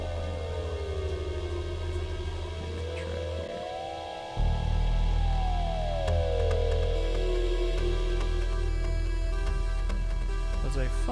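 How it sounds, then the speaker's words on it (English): Spacey synth pad from the Crystal synthesizer plugin in an Ableton session, a shimmering tone that sweeps slowly up and down, layered over a droning electronic backdrop whose low end thickens partway through. "That little space sound you hear in the background."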